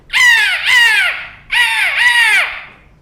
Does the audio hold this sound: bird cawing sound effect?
yes